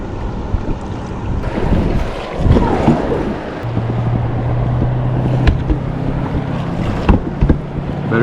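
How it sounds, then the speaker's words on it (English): River rapids on the John Day River heard from a raft, a loud rushing churn of water mixed with gusty wind noise on the microphone, continuous and close with occasional knocks and splashes. "These rapids sound bigger."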